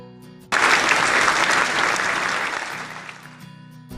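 A group of children in a classroom during a guessing game about summer pastimes suddenly bursts into lively hand clapping that lasts a few seconds and tapers off, with a faint voice before and after.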